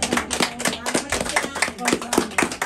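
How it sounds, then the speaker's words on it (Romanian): Rhythmic hand clapping at a surprise birthday celebration for Mrs. Maria in Colibași, steady claps in even time, fairly close, with voices and other sound mixed in throughout. "Aplauze!"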